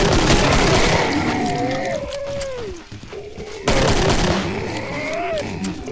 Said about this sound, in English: So I just go ahead and shoot them.